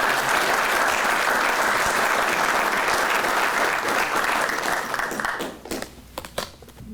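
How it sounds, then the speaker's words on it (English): An audience at a US Army Adjutant General Corps Hall of Fame induction ceremony gives a loud, sustained round of applause for the 2021 inductees, dense clapping that thins and fades out over the final seconds. "Please join me in another round of applause for the 2021 distinguished members of the Adjutant"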